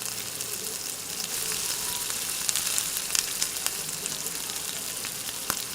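Bread fries in a pan with a chopped tomato mix, giving a close, steady sizzle with light crackles and occasional stirring clicks throughout.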